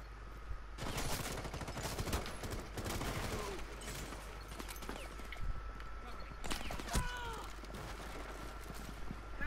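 Gunfire from the Rainbow Six Siege video game comes as a busy, crackling stretch of rapid shots and bursts mixed with clattering game effects and steady background noise, moderately loud throughout.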